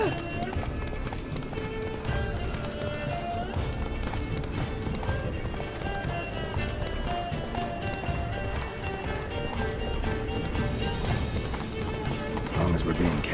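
Roach, a horse in The Witcher 3, gallops with steady clip-clop hoofbeats beneath a dense bed of music and game noise, while voices talk over the running hooves throughout.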